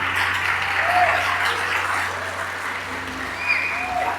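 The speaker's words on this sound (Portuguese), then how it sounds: "Você pode aplaudi-lo por isso?" A church conference congregation claps, a dense, sustained burst of applause from a large crowd, fairly close, with faint voices mixed in.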